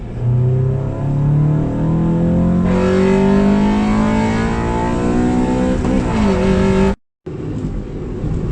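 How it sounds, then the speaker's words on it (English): A Honda Civic engine revving up through the gears from inside the cabin, pitch climbing steadily and loud, with a brief cut near the end. "let's go ahead and kick this Civic into gear"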